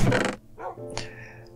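A dog in Minecraft gives a loud, rough growling bark, then softer whimpering yelps and a brief higher whine fade out.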